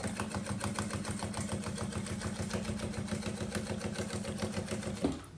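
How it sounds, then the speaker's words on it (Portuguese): Steady, fast mechanical chatter of a sewing machine at stitch length 3.5, running close along the zipper teeth to sew the lining of a banana-style bag, continuous and near, ending with a brief clunk. "Então, venho costurando aqui, ó."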